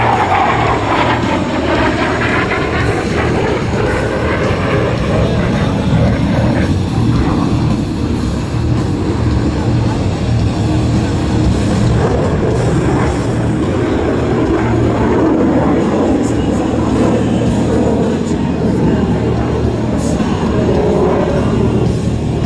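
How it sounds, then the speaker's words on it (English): An F-16 Fighting Falcon performs a 4-point roll during the F-16 East Demonstration at the 2010 Boston-Portsmouth air show. The jet's engine roars loudly and without a break throughout, with a crowd faintly audible beneath it. "from your left, the F-16 Fighting Falcon and the 4-point roll"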